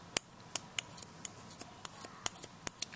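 Sharp, quick snips of scissors cutting a crochet yarn tail, about a dozen crisp clicks in an uneven rhythm, close and clear in a quiet room.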